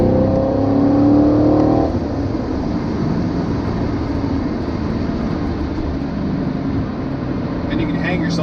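A 2018 Chevrolet Camaro SS 1LE V8 engine drones steadily from inside the cabin while driving, a low, even rumble with road noise. Brief talk opens the stretch.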